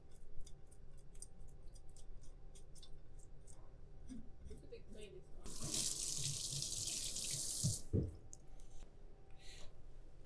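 Tap water runs into a sink to rinse a descaled sardine, a steady close rush of a few seconds flanked by soft clicks and handling noises at a kitchen counter.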